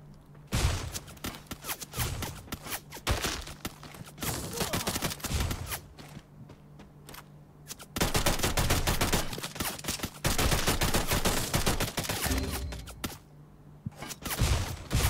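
Gunfire in the mobile shooter Free Fire: long bursts of rapid automatic shots in dense volleys, separated by short pauses, with some single cracks between bursts, loud and close throughout.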